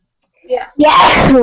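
A single sharp sneeze bursts out close by in a classroom setting, preceded by a few quiet spoken words and ending with a brief voiced trailing sound.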